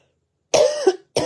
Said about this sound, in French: Ça tousse tout seul.